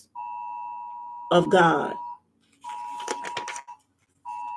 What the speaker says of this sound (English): let me stop this phone.